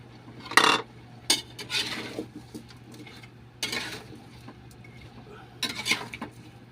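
A spoon knocks and scrapes inside a pot of chicken tinola soup, with a few sharp metallic clinks spaced apart, a brief scraping stir between them and a steady low hum underneath.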